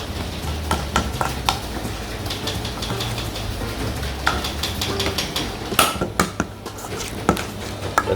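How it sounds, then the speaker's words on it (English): Bone marrow being mixed and mashed into butter in a bowl, with a series of clinking and scraping utensil knocks against the bowl, some sharper clatters near the end, over a steady low background hum. "we're just gonna mix that up and bash the marrow a little bit so that it breaks down into our butter"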